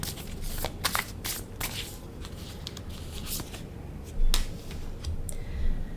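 Tarot cards are shuffled and handled close up in a series of crisp riffling, snapping flicks and soft slides, quiet and continuous with no talking.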